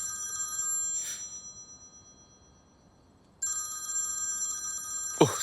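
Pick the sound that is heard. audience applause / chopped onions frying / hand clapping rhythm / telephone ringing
telephone ringing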